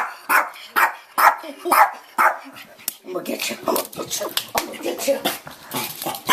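A young, hyper dog gives sharp, rhythmic barks and yips close by, mixed with whimpers as a person speaks over the commotion.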